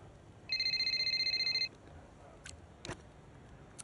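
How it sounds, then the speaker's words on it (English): An incoming-call ringtone in the F1 Braking Point 3 racing game, a bright rapid trill lasting about a second against quiet background, followed by a few soft clicks. "Phone call coming in."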